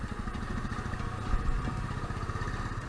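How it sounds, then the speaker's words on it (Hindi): A Royal Enfield Bullet motorcycle engine labours up a steep mountain road, its steady low thumping drone close and continuous, with a brief louder surge midway. "ये स्कॉर्पियो के सामने बुलेट अपना शक्ति का प्रदर्शन दिखाते हुए आगे निकल गई"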